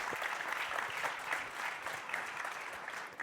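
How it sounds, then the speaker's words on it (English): Audience applause at a transportation conference, dense even clapping from a sizeable crowd, heard at a moderate distance and fairly quiet, with no talk over it. "Judging from the applause"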